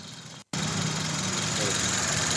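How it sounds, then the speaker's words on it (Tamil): A Maruti Baleno car engine idles with a steady, even hum, loud and close, after a brief cut at the start, continuing unchanged. "இன்ஜினுடைய சவுண்டை மட்டும் அப்படியே காட்டுறேன் பாருங்கள்"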